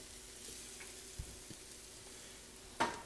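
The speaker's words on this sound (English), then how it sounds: "I like to saute with my bay leaf, okay?" Roughly chopped onion and garlic sauté in a pan with a bay leaf for Portuguese chicken and rice. A soft, steady sizzle runs throughout, with a couple of faint taps and one sharper clink near the end.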